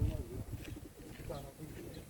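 A pigeon coos softly a few times in the background while people talk nearby.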